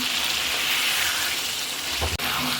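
Boiled potatoes are stirred and fried in a pan with oil for a Bengali lotpoti dish, giving a continuous close sizzle with a brief clunk of the spoon near the end.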